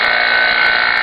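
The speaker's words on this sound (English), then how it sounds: "The pumps are loud, so there's nothing you can do about that." A vacuum pump runs loudly while oil and wax are infused into pistol grips, a dense, constant close-up roar with no pauses.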